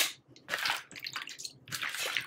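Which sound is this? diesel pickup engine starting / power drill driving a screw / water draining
water draining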